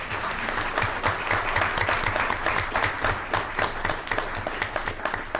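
Audience applause for the students of the month and student leaders at a school board of education meeting, steady dense clapping from a roomful of people filling the whole stretch without a break.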